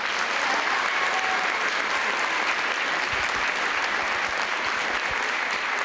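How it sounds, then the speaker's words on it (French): Sustained applause from the audience at a regional beauty pageant, a dense, even wash of clapping lasting several seconds at moderate loudness, with no speech over it. "ça mérite un tonnerre d'applaudissements"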